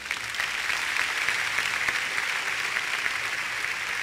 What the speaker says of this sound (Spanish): ¿Cuántos pueden aplaudir al Señor?